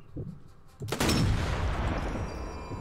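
A loud blast in the video game Sniper Elite 4, set on San Celini Island, bursts out after some faint rumbling and leaves a long rolling, crackling decay.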